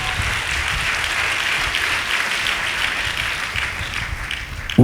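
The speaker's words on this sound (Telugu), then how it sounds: "అందరు చప్పట్లు కొట్టి దేవుని మహిమపరచండి సంతోషంగా." Church congregation clapping together during a Telugu worship service, a dense, steady round of applause that fills the room at an even level for about five seconds.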